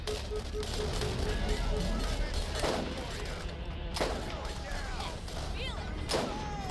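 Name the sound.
gunfire in the video game Borderlands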